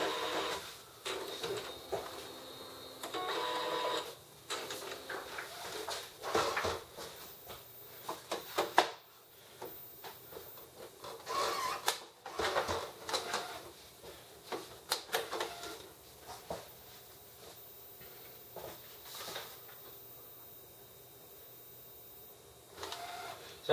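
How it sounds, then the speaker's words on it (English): An Epson 1500W inkjet printer fitted with a continuous ink system runs steadily for a long stretch, whirring and clicking in mechanical bursts as the carriage moves and paper feeds through. "we're going to run some prints off"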